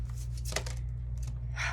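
Large tarot cards being shuffled by hand, a few quick soft riffling and slapping bursts close to the microphone over a low steady hum.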